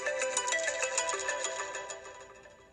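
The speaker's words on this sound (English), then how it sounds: "Let me play a ringtone because let's see how it does." A bright, tinkling electronic ringtone from an Apple Watch Series 5, with rapid repeating chime notes, plays steadily, then softens toward the end.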